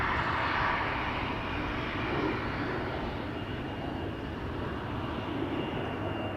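An Embraer jet airliner taking off from Schiphol's Polderbaan runway, a loud, continuous engine roar with broad rumbling noise that stays strong throughout.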